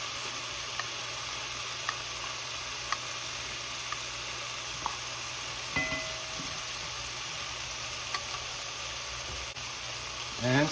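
Yogurt is stirred into a sizzling chicken curry, making a quiet, steady hiss and sizzle with light intermittent spoon taps and scrapes and a brief bump near the end.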